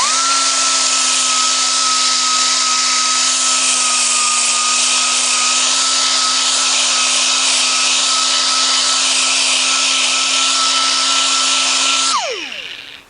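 A Harbor Freight 2-inch orbital sander works over heavily rusted metal with a loud, steady, high whine and gritty hiss, close by, then winds down abruptly as it switches off.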